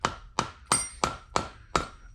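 A plastic hammer tapping a valve seal onto a valve in a cylinder head, six sharp, evenly spaced taps about a third of a second apart, close and distinct.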